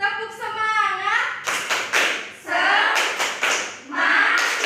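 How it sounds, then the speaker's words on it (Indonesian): Schoolchildren in a classroom doing a rhythmic cheer routine, sharp bursts of hand claps in set patterns between chanted voices, close and fairly loud. "Tepuk semangat."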